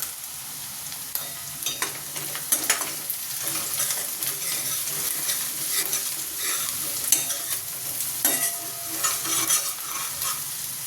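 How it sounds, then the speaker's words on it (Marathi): Pav bhaji vegetables are stirred and cooked in a pan, giving a steady close sizzle broken by frequent scraping and tapping of the spoon, with no talking. "मिक्स करून घेऊया आणि छान शिजवून घेऊया गुलाबी रंगावर"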